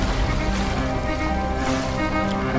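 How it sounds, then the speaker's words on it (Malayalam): Roaring sea waves fill a Malayalam radio drama scene about a vast, deep, booming ocean, a steady loud surf wash with swelling bursts and no voices over it. "ഇന്നേ വരെ കണ്ട കടലിനേക്കാളും വലിപ്പമുള്ള, മുഴക്കമുള്ള, ആഴമുള്ള കടലല്ലേ?"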